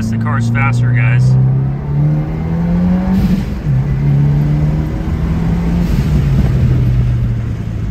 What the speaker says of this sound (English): But the intake sound is quieter with that shield around it.